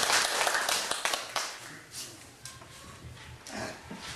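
An audience at a discussion forum claps to welcome a guest, a brief burst of applause at the start that thins out and fades within a couple of seconds, leaving quiet room sound.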